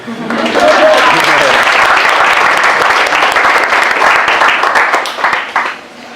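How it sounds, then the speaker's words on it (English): A crowd at an Ottawa sustainability tour gathering cheers and claps for the absent t-shirt designer, loud close applause mixed with voices that swells, holds, then fades out. "let's give her a cheer even if she's not here."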